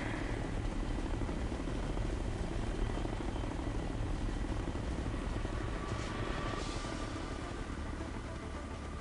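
Steady helicopter rotor chop and engine drone from the video game Ghost Recon: Future Soldier, continuous and fairly loud throughout without talk.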